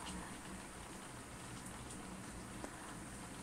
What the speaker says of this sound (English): I actually can't believe that it's raining so hard.